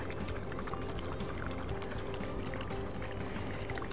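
Water sloshes and rattles inside a capped container holding grunion eggs as it is shaken to mimic wave action. The noise is fairly faint, continuous and close, with a couple of small knocks.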